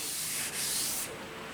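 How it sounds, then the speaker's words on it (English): Wet sanding of a car body panel with 320-grit sandpaper on a Ranger chop-top project, a steady close hissing rub that briefly drops out and then carries on more softly, with no talking. "Here's a spot that I've already started water sanding on."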